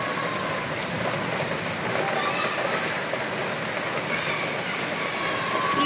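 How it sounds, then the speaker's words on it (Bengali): Rain falling at night, a steady, dense hiss of drops on surfaces that holds at an even level throughout, close and without voices. "দেখো কেমন বৃষ্টি হচ্ছে।"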